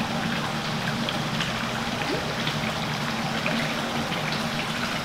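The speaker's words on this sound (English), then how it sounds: "it's just more water getting added in here that you can see right there" Water pours steadily into a large pool pond, a continuous hissing trickle and splash at an even level with no break for the whole stretch.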